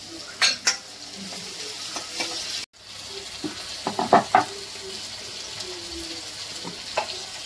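Onion and green chilli frying in hot oil with mustard seeds, a steady sizzle with sharp spoon-on-pan stirring clacks scattered throughout, close and alone with no talk.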